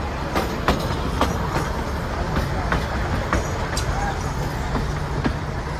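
Bilimora to Waghai mini train rolling steadily over a bridge on rails, a continuous loud rumble with sharp periodic clacks from the wheels at the rail joints.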